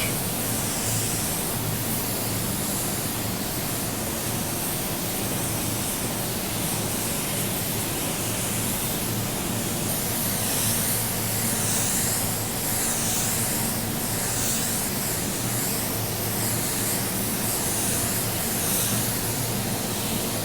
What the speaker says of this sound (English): Apply 2 to 3 coats of base coat or until you get the desired effect and full coverage